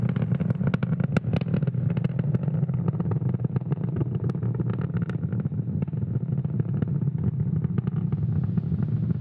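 SpaceX Falcon 9 rocket engines during ascent, a dense, steady crackling roar heard from a distance, continuous and unbroken throughout.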